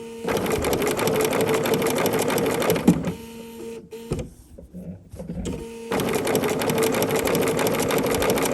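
A Bernina sewing machine stitching fabric appliqué, a loud, close mechanical whirr in steady bursts that pauses briefly in the middle and then resumes.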